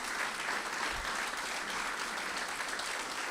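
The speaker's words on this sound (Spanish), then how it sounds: "¿Qué les parece si le damos un aplauso al Señor" Church congregation applauding together, a continuous wash of clapping from many hands heard at moderate level, steady throughout with no voices over it.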